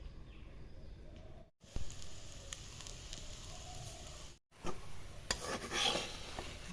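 Rice-flour pitha batter frying in a little refined oil in a kerai wok, a steady soft sizzle with faint utensil clinks, cut by two brief silent gaps.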